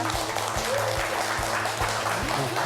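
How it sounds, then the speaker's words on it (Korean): Audience applause welcoming a university professor to a televised regional lecture on local decentralization, a dense, continuous wash of clapping over a steady low electrical hum. "여러분 박수 부탁드립니다."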